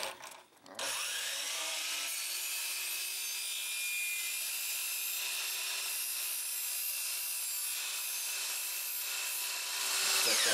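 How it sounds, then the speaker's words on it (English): A power saw set at a slight back bevel cuts LVT flooring tread, starting with a short clatter and then holding a steady, high whining buzz for several seconds before rising slightly at the end. "Set that saw to 6 3/8. Run it off of here."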